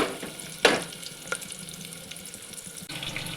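Carrots and onion fry in oil in a pan, a steady sizzle with a sharp spatter as they are stirred, and no talk.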